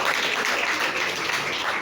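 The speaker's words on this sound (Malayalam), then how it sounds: "സിസ്റ്റർ സൂസിയെയും നിറഞ്ഞ കൈയടികളോടെ ഈ വേദിയിലേക്ക് സ്വാഗതം ചെയ്യുന്നു" An audience at a school Christmas event claps to welcome guests, the nuns who teach there, to the stage. The applause is a steady, moderately distant wash that holds evenly throughout.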